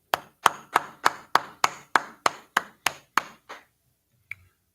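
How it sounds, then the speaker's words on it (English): A handful of people clap in a steady, evenly spaced rhythm, about a dozen sharp claps close by that slow and fade out, with one last isolated clap after a short pause and no talking. "All right, clap it up."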